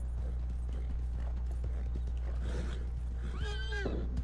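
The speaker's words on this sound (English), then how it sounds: "my horse ran out of stamina" A horse in the video game Red Dead Online gallops with a steady, close clip-clop of hooves under a low rumble, then lets out a loud, wavering neigh near the end.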